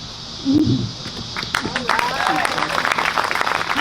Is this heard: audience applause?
yes